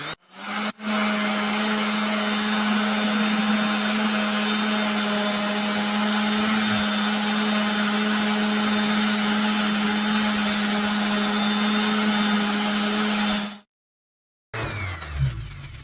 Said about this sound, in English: so I just use a palm sander with 40 grit and sand around it.